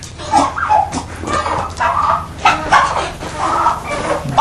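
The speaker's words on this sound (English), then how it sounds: "Breeding pen for chickens." Chickens in a barn breeding pen cluck and murmur in a steady, overlapping chatter close by, with soft barn noise underneath.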